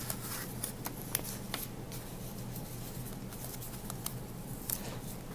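Paper strips being folded produce soft, close rustles and light taps in a sparse, irregular rhythm over a low steady hum.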